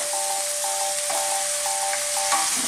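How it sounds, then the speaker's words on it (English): Chicken drumsticks are stirred in a hot pan with ginger, lime leaves and other ingredients. A constant sizzle runs under rhythmic scraping strokes of the spoon against the pan. "just stir this, mix this all ingredients in the drumstick for 5 minutes"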